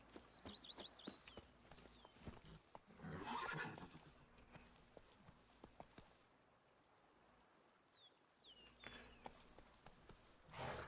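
Roach, a horse in The Witcher 3: Blood and Wine, whinnies and clops its hooves at a quick pace over game ambience; a second whinny follows a few seconds later.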